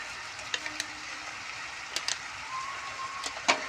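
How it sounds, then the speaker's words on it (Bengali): Chow mein noodles coated in soy sauce, tomato sauce and chaat masala are stirred in a pan, a soft continuous sizzle broken by several sharp scraping clacks of the utensil, the loudest near the end. "এবার এটাকে আমি ভালো করে একটু নেড়ে নেবো।"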